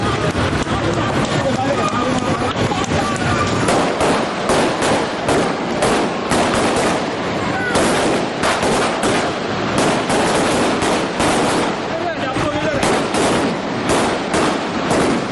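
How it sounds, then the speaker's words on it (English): Rapid strings of firecrackers crackle and pop loudly and continuously at a political victory celebration on a road, with a crowd murmuring underneath. "supporters lit firecrackers in celebration"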